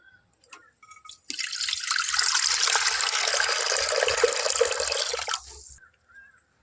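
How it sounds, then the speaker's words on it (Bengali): Water pours into a pressure cooker for a coconut dish, a steady close rushing splash that runs for about four seconds after a few small knocks, then cuts off, with no talking. "প্রেসার কুকারের মধ্যে দিয়ে দেব জল"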